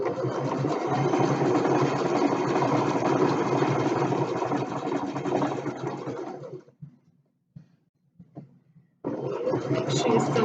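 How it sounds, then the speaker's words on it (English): Sewing machine stitching a quarter-inch quilt seam, a fast, even mechanical whir running steadily for several seconds, pausing with soft handling noises, then starting up again. "Just gonna keep sewing that 1/4 inch seam"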